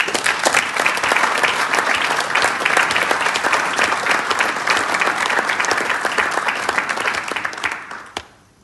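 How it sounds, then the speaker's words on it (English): At a graduation speech, the audience breaks into a round of applause, loud and continuous clapping that holds for about eight seconds before fading out abruptly at the end. "Could we all please give her a round of applause?"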